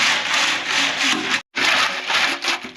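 A groundnut shelling machine cracks peanut pods with a loud, steady, rough grinding and rattling that drops out for a brief moment midway before carrying on, with no talking.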